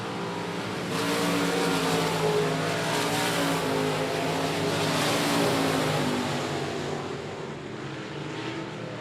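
Race cars lap I-37 Speedway in the closing laps of a regular race program, a steady loud engine roar swelling and easing as the field sweeps past, with no voices over it.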